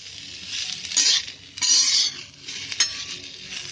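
Ivy gourd (tendli) stirred in oil in a frying pan, with a scraping, clinking utensil and soft sizzle rising in three bursts, close and fairly quiet, no talk.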